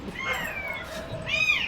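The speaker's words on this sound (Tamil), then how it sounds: "குட்டி பூனைங்க" Kittens meow close by, two thin, high, wavering cries, the second brighter and clearer, over a quiet background.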